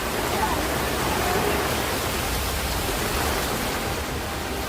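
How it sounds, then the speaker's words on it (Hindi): Floodwater pours through city streets in Valsad, Gujarat, after heavy monsoon rain, making a dense, steady rushing wash with no breaks. "भारी बारिश के कारण पूरे शहर में जल भराव हो गया"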